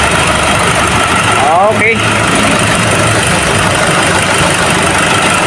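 Steady mid-range idle of a 2010 Nissan Navara engine running at a service-station check-up, constant and close throughout, with a voice briefly speaking over it.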